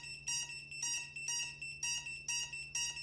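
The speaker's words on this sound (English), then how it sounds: "when you activate the failsafe, you can hear it beep." Failsafe alarm on a GEPRC MOZ7 FPV drone running Betaflight with DJI O3: six bright, evenly spaced electronic beeps, each a short high chirp repeating roughly every half second over a faint steady hum.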